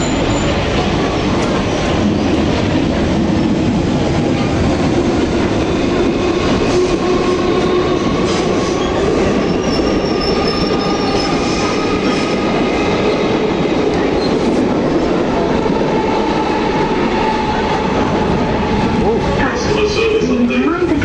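A passenger train runs steadily on the rails toward London, a loud continuous rumble with wheel noise and faint squeals throughout, with voices heard faintly underneath.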